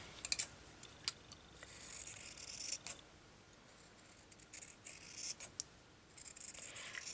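Scissors snip through a fabric rectangle in quiet, intermittent cuts, with small crisp clicks and rustles spread across several seconds.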